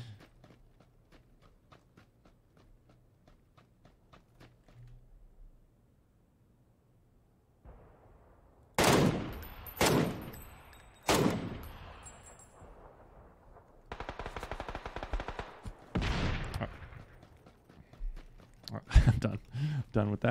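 A big gun fires in the battle game PUBG: a loud burst of heavy, sharp gunshots in the middle, then scattered shots later, after quieter rapid ticking and faint clatter.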